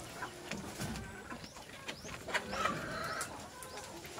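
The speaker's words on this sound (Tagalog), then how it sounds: "Yan po ating manok mga guys" Backyard chickens clucking at close range, several soft overlapping clucks and calls in a steady, busy stream with no talking.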